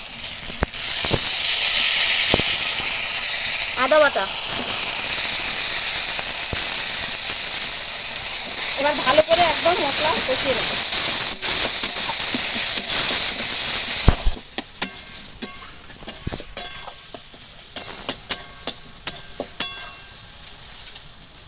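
Onion paste hits hot oil with tomato, green chilli, turmeric and chilli powder for a village-style Bengali katla fish curry, a loud sustained hiss that cuts off abruptly, followed by quieter scattered clinks and stirring.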